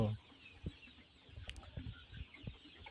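Thirty-nine-day-old layer chickens on a poultry farm give soft, scattered clucks, a few low calls spaced over a quiet background.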